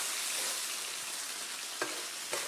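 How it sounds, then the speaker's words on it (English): Cheesesteak filling sizzles steadily on a hot grill while two spatulas mix it, with a couple of sharp metal scrapes near the end against a constant frying hiss. "Yep, I'm gonna mix it all in. With 2 spatulas."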